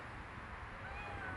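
A stray cat meows once, faint and close, over a quiet outdoor background.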